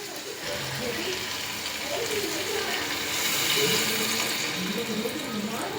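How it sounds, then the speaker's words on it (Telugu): Water pours into a pan of Godavari-style raw prawn curry, a steady rushing splash that swells midway, with a voice speaking alongside. "ఇప్పుడైతే వాటర్ వేసుకుందాం."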